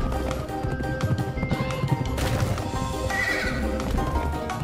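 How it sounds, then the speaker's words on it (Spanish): Horse neighing with rhythmic galloping hooves in the video game Pumpkin Jack, loud and steady over busy game music and effects, with no talking. "Pedazo de salto tiene el cabrón del caballo."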